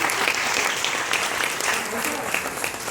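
Audience applause at a business seminar in Mumbai, a crowd clapping steadily and fairly loudly with a dense, even texture, and a voice or murmur faintly present beneath the clapping.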